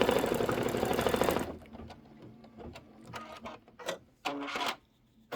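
An embroidery sewing machine stitches a pecan pie design, first a dense steady whir, then a quieter run of irregular mechanical clicks and needle taps, close by with no talk.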